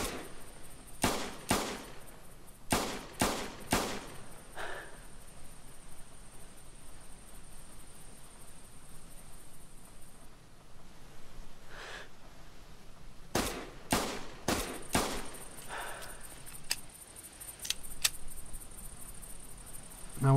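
Sharp .22 Grasshopper pistol shots ring out in theHunter, a few spaced cracks early on, then a tight rapid cluster, each crisp report followed by a faint metallic target clang over a quiet background.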